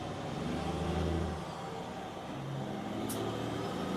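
A Freightliner FLD Classic truck engine in Farming Simulator 22 idles and revs, a steady low drone that swells, eases off, then climbs again, with a brief sharp click partway through.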